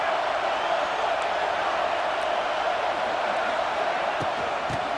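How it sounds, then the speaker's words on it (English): In the NCAA 26 football video game, an Alabama home crowd roars at Saban Field on third down, a constant, dense wall of stadium noise that never lets up, with commentary voices running over it. "The Tide crowd rolling noise down onto Saban Field on third down"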